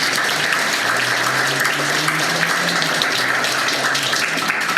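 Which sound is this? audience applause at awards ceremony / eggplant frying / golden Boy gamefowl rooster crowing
audience applause at awards ceremony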